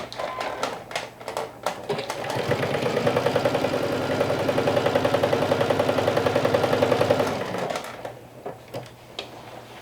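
Sewing machine stitching bucket hat pieces with a quarter-inch seam, a fast, even rattling run of several seconds between a few short taps and clicks at the start and end.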